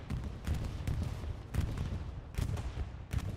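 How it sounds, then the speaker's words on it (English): Bombing run in Hell Let Loose, with a series of dull, heavy blasts arriving at irregular intervals, about five distinct thumps over a rumbling battlefield background at a moderate distance. "bombing run comes in"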